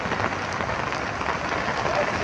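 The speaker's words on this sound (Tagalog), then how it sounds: "lakas ng ulan" Heavy rain pours steadily at a market, a dense hiss of drops striking surfaces with no pauses, loud and close.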